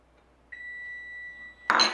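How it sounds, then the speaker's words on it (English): A kitchen timer gives a single sustained electronic beep, clear and steady, followed by a brief clatter close by. "And there is the timer"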